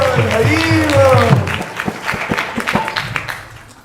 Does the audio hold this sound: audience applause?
yes